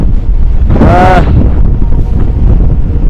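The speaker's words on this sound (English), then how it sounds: "It's just so windy." Strong wind buffets the microphone in a steady, loud roar on a mountain hike, with a brief whistling gust rising near the start.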